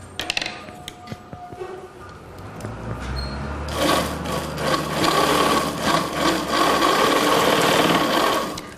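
A sewing machine runs with its thread out of the tensioner, first some clicks and handling, then a sustained, fairly loud whirring stitch rattle for the second half.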